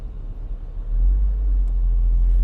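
A Porsche 981 Boxster with a 7-speed PDK gearbox shifts into second gear, its engine dropping into a loud, steady low rumble that swells after the first second and holds close by.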